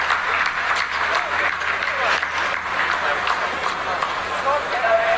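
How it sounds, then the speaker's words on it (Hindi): Scientists applauding in mission control during the Chandrayaan-3 Moon landing, a continuous, loud roll of many hands clapping together, with a voice speaking over the ovation. "आप इस तालियों के गड़गड़ाहट को सुन सकते हैं"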